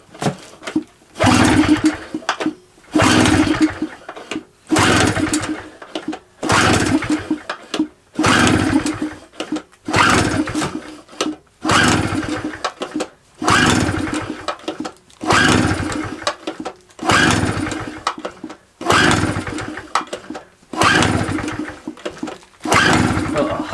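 Old two-stroke generator, probably a Honda or SIP, loud and close, repeatedly pulled over and catching in short roaring bursts, about a dozen rhythmic surges separated by brief gaps, with no voices.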